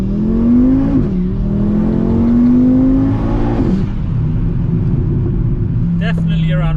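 VW Mk6 Golf R fitted with a 500 bhp Audi RS3 2.5L five-cylinder engine, revving hard with rising pitch, a shift, then climbing again before easing off, loud and near, with people talking over it.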